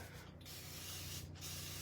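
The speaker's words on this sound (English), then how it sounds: "I'm going to spray this with water." A spray bottle gives two quick hissing spritzes of water onto a frame, close and fairly soft, with a steady background hum and no talking.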